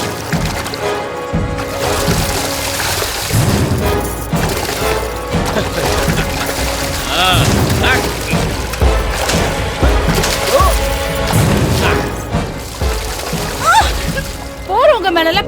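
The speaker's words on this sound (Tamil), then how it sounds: "போறவங்க மேல இப்படி தண்ணி ஊத்துறியே" Water is poured and splashed on passers-by during a Holi festival scene in a Tamil-dubbed film, with repeated splashes and clatter mixed under loud, excited voices and shouting throughout.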